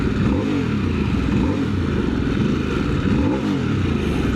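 A 2025 Harley-Davidson Sportster S rumbles and pulls hard, its engine note rising and falling through revs in a loud, steady, close drone heard from on the bike.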